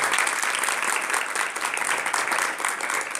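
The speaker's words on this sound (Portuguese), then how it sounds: "bate palmas para Jesus agora um pouquinho" A Catholic congregation claps for Jesus at a Marian gathering, a continuous, even wash of many hands clapping at once, moderately loud and steady throughout.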